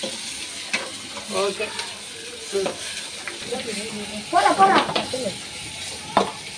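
Onion and tomato sautéing in a pan for a chicken leg gravy, a soft sizzle with scraping stir strokes and occasional clinks, mid-distance, while people talk intermittently over it.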